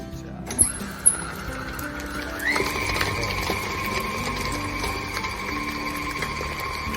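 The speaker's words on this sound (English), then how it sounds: "we're going to turn on the mixer and mix it up" An electric mixer whirs through cake batter for a princess cake: after a couple of sharp clicks, a steady, fairly loud motor whine with a bright pitch begins and holds. A faint voice may sit beneath it.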